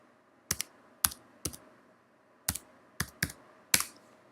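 Keystrokes on a computer keyboard while a password is entered at a login prompt, arriving as sparse, sharp clicks in small bursts of one to three with pauses between, close and fairly quiet over a faint background hum.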